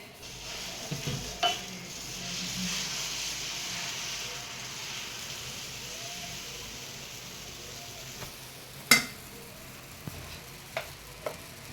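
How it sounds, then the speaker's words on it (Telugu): A cut onion is rubbed around a hot iron dosa pan, giving a steady close sizzle and hiss, with a few sharp clinks and taps of the pan near the end. "మనం ఒక ఉల్లిపాయ ఇలా కట్ చేసుకుని మనము ఈ వేడైన పెనం చుట్టూ ఇట్లా తిప్పుకున్నాం అనుకోండి రుద్దుకోవాలన్నమాట"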